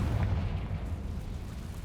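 The Confringo fire spell goes off in the game Hogwarts Legacy. It lands as a single deep, rumbling blast that booms loudly and decays over about two seconds, with no talk over it.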